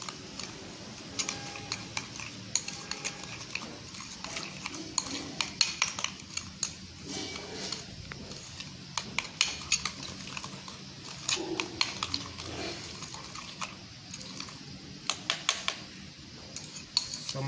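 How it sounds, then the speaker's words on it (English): A spoon stirring mayonnaise tartar sauce seasoned with pepper in a bowl, giving repeated light clinks and scrapes against the bowl in an irregular rhythm, moderately quiet and close. "and you stir it nicely."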